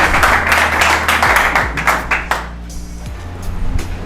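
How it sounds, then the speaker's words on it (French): An audience applauds and cheers a speaker at a TED-style talk event, a broad wash of clapping that is loud at first and thins out over several seconds, with a low tonal hum underneath. "acclamons très fort Andrea sur vos ovations"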